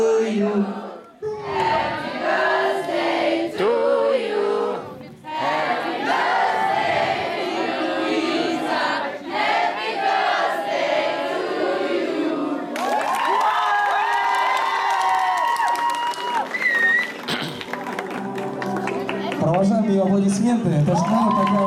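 At a children's birthday disco, an audience claps and cheers while kids shout excitedly, with a loud, steady crowd din throughout and an adult voice talking over the noise.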